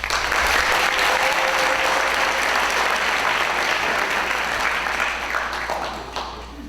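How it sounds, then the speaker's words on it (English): Graduation ceremony audience applauding loudly in a large hall, a sustained, dense roar of clapping that holds steady, then fades near the end. "Please give yourselves a round of applause."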